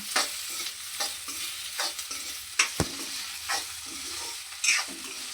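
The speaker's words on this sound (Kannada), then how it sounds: "ನೆಕ್ಸ್ಟು ಬೆಂಡೆಕಾಯಿ ಹುರಿದಿಟ್ಕೊಂಡಿರೋದನ್ನ ಆ್ಯಡ್ ಮಾಡ್ತಾವಳೆ. ಫುಲ್ ಮಿಕ್ಸ್ ಮಾಡಿ ಕುಡಿತೀವಿ." Fried okra is stirred into a pan for a North Karnataka style palya, a soft sizzle broken by repeated scraping strokes of a spatula and one sharp knock, close up with no talk.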